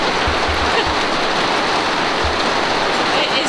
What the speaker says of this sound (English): We've got hailstones coming in through the window or through the mushroom.